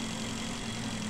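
Steady low idle of a motorbike engine in the space survival game Breathedge, a constant even rumble with a faint hum, close and unbroken with no talk over it.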